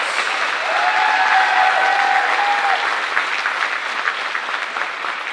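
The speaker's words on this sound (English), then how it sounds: "Let's have a round of applause for the Lions." Crowd applause fills a gym at the HCAC volleyball conference championship between Transylvania and Mount St Joseph, a dense, steady clapping that stays loud throughout with a brief whistle-like tone in the middle.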